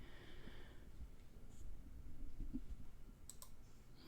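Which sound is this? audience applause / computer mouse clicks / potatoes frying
computer mouse clicks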